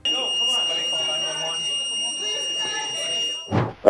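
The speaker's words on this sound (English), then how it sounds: "As alarms went off in the courtroom" Alarms blare in a courtroom during a disturbance, a steady high electronic tone sounding nonstop over a background of distant voices, ending with a couple of sharp loud bumps near the end.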